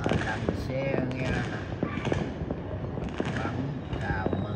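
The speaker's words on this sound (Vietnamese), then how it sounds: "Đây là pháo hoa ở đằng xe nghe" Lunar New Year's Eve fireworks over a city, heard from a 19th-floor window: a continuous distant barrage of popping bursts and crackles with scattered louder booms, while people talk nearby.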